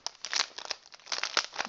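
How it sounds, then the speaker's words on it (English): A new PC part is slid out of its plastic bag, giving a near, busy run of crinkling and rustling with brief tearing-like bursts throughout. "So I'm going to take it out of the bag here"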